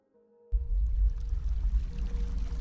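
Water pours and rushes in a cosy video game demo, a loud, steady gushing that starts suddenly after a brief quiet moment and keeps flowing to the end.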